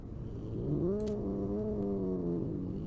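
A cat in the Cat Museum video game lets out one drawn-out, wavering meow that rises and falls over a steady background hum, clear and close.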